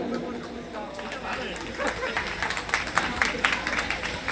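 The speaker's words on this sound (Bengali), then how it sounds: "সকলকে খুব জোরে হাততালি দিন আপনারা" Audience applause at the opening of the Maa Sarada cultural stage and the unveiling of a Durga idol: scattered clapping swells into steadier, louder applause from a crowd, under a speaker's voice and general chatter.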